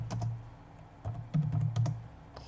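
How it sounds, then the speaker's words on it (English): Question typed into ChatGPT on a computer keyboard: a quick run of close key clicks, some uneven bursts, over a low background hum with no speech. "type in a subject that you like"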